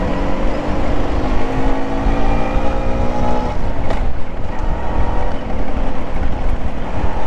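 Trucks roar past fast on a road, a loud continuous rumble with rising and falling engine tones and heavy wind buffeting close to the microphone.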